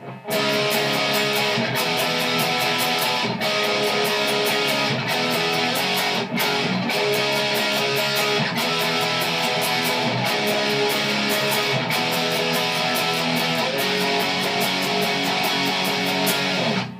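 Distorted electric guitar plays the chorus, a steady strummed riff with regular accented hits throughout, loud and up close, with no voices.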